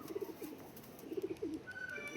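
Tournament racing pigeons coo in soft, repeated low phrases close by, several bursts rising and falling across the moment, with a faint higher tone near the end and no voices.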